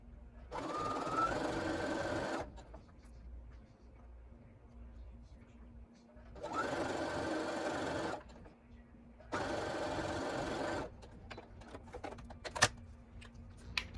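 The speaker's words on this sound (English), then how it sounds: "I'm just going to let the machine do the work and pull the fabric through." A sewing machine stitches bias-cut fabric triangles in three bursts of rapid, even whirring, each a couple of seconds long, separated by quiet pauses with faint handling clicks, close by and with no talk.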